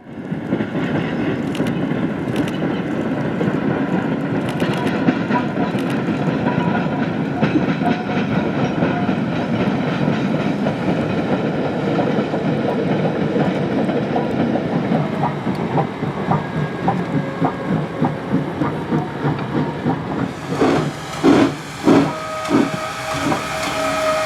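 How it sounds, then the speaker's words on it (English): Woodstown Central Railroad No.9 steam engine runs through a Y track in rural New Jersey during heavy February rain, giving a continuous loud rumble and hiss with chuffing rhythm, ending in sharper clanks and a brief tonal whistle-like line. "Here the train enters a Y track where the engine could turn around."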